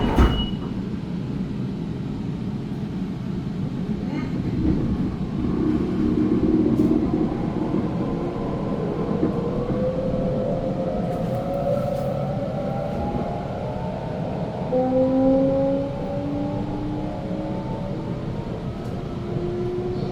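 A Northern Line train pulls out of a station with a loud, steady rumble of wheels and motors. Rising tonal whines climb as it gathers speed, with no voices heard.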